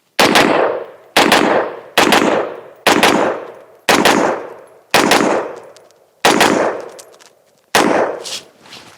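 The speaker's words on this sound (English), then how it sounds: "let's go ahead and finish this 15 round" Eight loud, close rifle shots fired from a 15-round magazine at a range, evenly spaced single reports about a second apart, each with a sharp crack and decaying echo, no voices.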